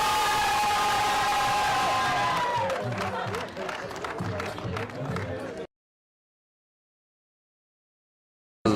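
Crowd applauding the winner at a Tour PACA Junior 2013 cycling race prize ceremony in Veynes, a steady outdoor patter of clapping and cheering that rises after music fades, then cuts off abruptly into silence.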